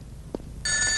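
A telephone starts ringing with an incoming call, its bright electronic trill cutting in abruptly after a short pause. A brief soft thump comes just before the ring.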